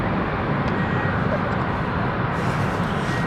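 A jet airliner on the Florence flight takes off from London City Airport, its engines a loud, broad, steady roar held close for the whole stretch.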